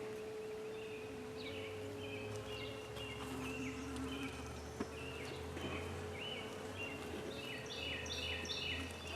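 Honey bees buzz steadily around an open hive during an evening inspection, a dense, continuous drone with a few individual bees flying close by; birds call faintly in the background.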